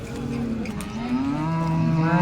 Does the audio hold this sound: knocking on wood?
no